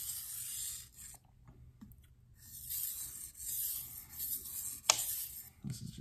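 Light sharpening passes of a Wusthof Classic Santoku 7-inch knife on a diamond stone: faint, soft rasping strokes come in uneven, intermittent bursts, with quiet gaps between them.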